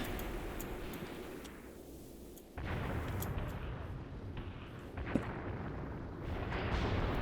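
Enemy gunfire in Graviteam Tactics, a dense, continuous rumble of distant shots and booms with a sharper crack midway, the roar swelling after a sudden jump in loudness.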